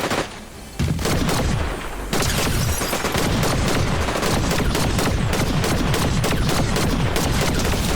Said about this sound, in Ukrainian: І там вже стріляються прям десь.